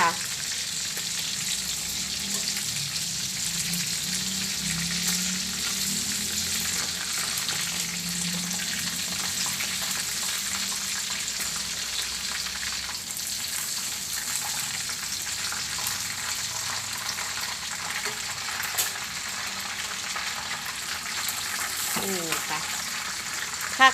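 Naem, Thai fermented pork sausage, frying in hot oil, a steady bright sizzle and crackle running throughout with faint stirring clinks near the end and no talk.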